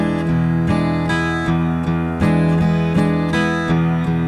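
Acoustic guitar strumming blues chords in straight eighth notes, an even steady rhythm of bright, close strokes, played alone with no talk.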